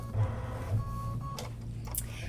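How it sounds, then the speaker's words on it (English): An embroidery machine sews a placement stitch for pin cushion batting, a steady mechanical hum with faint tonal whine and a couple of brief higher clicks, close and moderately quiet, no talk over it. "Now I'm going to go ahead and run my first machine step, which will be the placement stitch for our batting."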